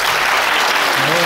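Dense applause from an audience at a fantasy role-playing game session, a steady loud wash of clapping through the whole short stretch, with faint voices underneath near the end.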